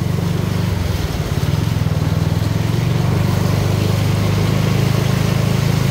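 A vehicle engine drones loud and steady while driving through a road flooded by rainwater, a close, continuous low rumble with no talk.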